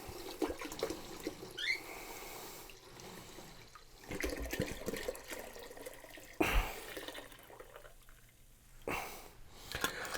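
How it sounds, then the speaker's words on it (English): Wine pours into a pot for mulled wine in a soft, continuous splashing stream with gurgling surges, fairly faint and close. "So now I'm going to add the rest of my 6 liters of wine."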